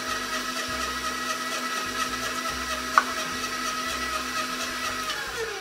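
A stand mixer blends butter cookie dough for Polish butter cookies, with vanilla and milk mixed in, giving a steady, continuous motor whir throughout and a single brief click partway through.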